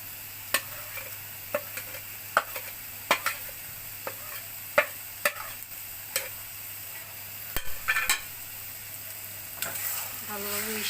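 Chilies sizzle in hot oil in a pan while red amaranth greens are cooked, with a soft steady frying hiss broken by a dozen sharp scraping taps of a stirring spoon, close up.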